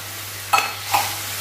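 A spoon stirring Shevga Batata Bhaji, a drumstick and potato curry, in a pan with water just added, giving two brief scraping, sloshing strokes over a steady low hum.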